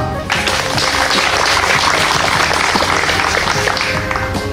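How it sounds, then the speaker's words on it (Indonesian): Applause at a send-off ceremony in Bali for provincial athletes heading to the Peparnas 16 games in Papua; a dense burst of clapping begins abruptly and continues steadily, with some hum and tonal background underneath. "Tepuk tangan."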